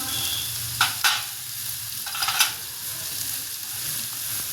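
Amla (Indian gooseberry) pickle stirred in a pan, a steady low sizzle with a few sharp scraping clinks of the spoon near the start and again mid-clip, otherwise a soft continuous cooking hiss.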